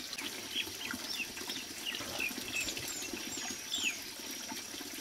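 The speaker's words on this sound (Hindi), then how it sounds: "चलो मैं इसमें पहले पानी भर लेता हूँ," Water pouring from a village spring tank into a container in a hill settlement, a quiet continuous trickle and splash with faint bird chirps in the background.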